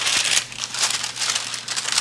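Parchment paper crinkling and rustling in quick, uneven bursts as it lines a lasagna pan, close up and fairly quiet, with no talking.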